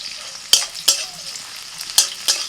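A broken green chilli fries in mustard oil with chopped onion and dried red chillies in a kadai. A low sizzle runs underneath four sharp metallic stirring scrapes, spaced unevenly and heard close up.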